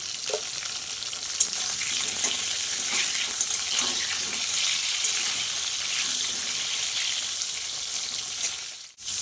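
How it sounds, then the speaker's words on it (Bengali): Steady oily sizzling of salted pointed gourd frying in a pan, a continuous crackling hiss with occasional soft clinks, ending in a brief scrape. "একটু লবণ দিয়ে ভাজবো পটলটা"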